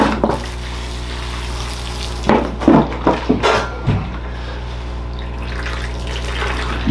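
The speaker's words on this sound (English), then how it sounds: "Let's get some water and take care of this guy." Water poured into a freshly repotted barberry bonsai, splashing steadily and close by, with a few louder gushes of liquid partway through and no talk.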